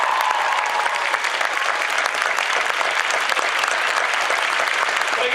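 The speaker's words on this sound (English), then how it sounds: "Give a big round of applause for that entire group," Loud, dense applause from a convention audience for a cosplay group on stage at the Forest City Comicon 2015 cosplay contest in London, Ontario, sustained evenly throughout without a break.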